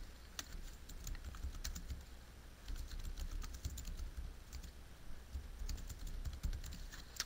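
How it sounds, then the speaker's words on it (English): Text typed on a computer keyboard during a photo slideshow software tutorial, heard as steady rapid clicking keystrokes with small bursts and pauses, fairly close and alone with no talking. "We are going to write"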